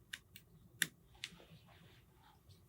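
Scissors cut marabou while a mohair leech fly is being tied, making a few faint, crisp snips close up over quiet room noise, with one sharper cut near the middle.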